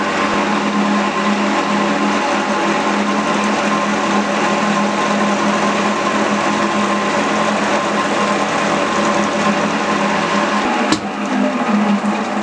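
Metal machining on a Kawasaki Z650/1100 motorcycle part, taking 2 mm off: a loud, steady machine drone with a constant hum, briefly interrupted near the end, with no voices.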